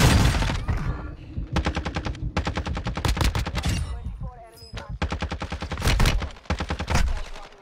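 Rapid automatic gunfire from the video game Call of Duty: Warzone 2.0 rattles in loud, dense bursts with short gaps, with a brief break of other game sounds between volleys.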